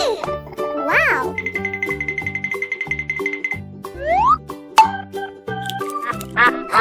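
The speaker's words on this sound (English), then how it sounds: "Duck." A cartoon duck quacks briefly amid a bouncy children's tune with boings and chimes, the quack faint and partly buried under the music.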